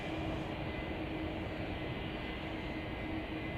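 A United Airlines airliner at Chicago O'Hare, a steady distant rumble of aircraft engines with a faint hum above it, moderately quiet and unchanging throughout.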